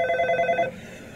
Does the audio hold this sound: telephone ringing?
yes